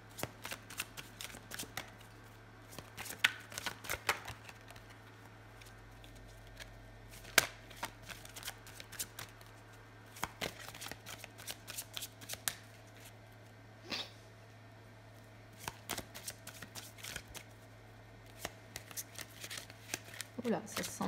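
A deck of tarot cards being cut and shuffled by hand close up, with repeated soft riffling flicks and slaps scattered irregularly across the clip over a low steady hum.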